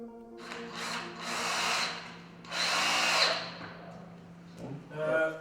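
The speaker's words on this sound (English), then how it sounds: "I had to drill some holes for the cables to fit there" A power drill whirs in several bursts, spinning up and winding down between pauses as holes are drilled nearby.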